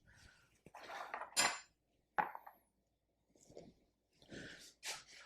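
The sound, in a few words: frying pan put on the hob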